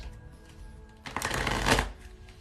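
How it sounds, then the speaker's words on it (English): Tarot cards being shuffled: a short, crisp riffling burst rises and fades after a quiet moment, heard close and alone. "We're gonna shuffle for you."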